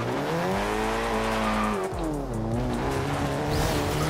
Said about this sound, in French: On entend le son du moteur et puis voilà.